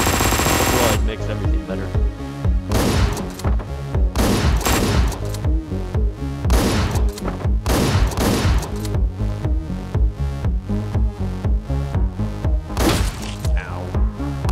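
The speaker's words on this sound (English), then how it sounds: "I love getting shot by guys on the screen." Rapid bursts of gunfire from the top-down shooter Hotline Miami 2, loud and constant over driving game music, with a voice speaking briefly.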